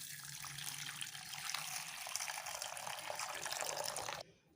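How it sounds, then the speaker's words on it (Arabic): Water pours from a tap into a mug in a kitchen, a steady bright splashing stream for about four seconds that stops abruptly. "بعد كده هنحط ايه كوبايتين كده ميه اهو"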